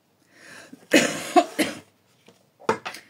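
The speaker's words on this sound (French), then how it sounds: "désolée, je tousse" A woman coughs several times in two short bursts, a couple of harsh coughs followed by a pause and two more, close to the microphone.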